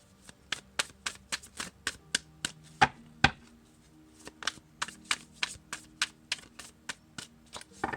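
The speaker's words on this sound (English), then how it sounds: "This deck is so new, it's a little hard to shuffle" A new, stiff tarot deck being shuffled in a series of crisp riffles and taps, close up, with a couple of louder snaps partway through and no talking.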